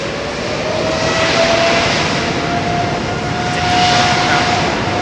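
A jet airplane at London Heathrow Airport gives a loud, steady engine roar that swells and fades slightly as it passes, with a thin tonal whine running through it and no voices.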